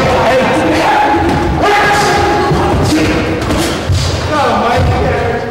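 Punches thudding to the body during an amateur boxing sparring session, a steady run of dull impacts close by over gym noise and a coach talking throughout.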